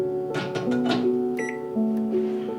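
A microwave oven in a home kitchen hums steadily while short electronic beeps and tonal blips sound in a stepped sequence over about two and a half seconds, close and clear, with no speech.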